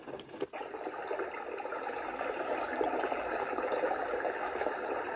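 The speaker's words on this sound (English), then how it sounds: "Stream in the cave." A sound machine playing a looped recording of a stream in a cave, a steady, hissing wash of trickling water after a brief click at the start, even and moderately quiet with no talking.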